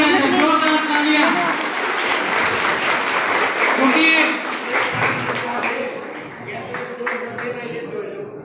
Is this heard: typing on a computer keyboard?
no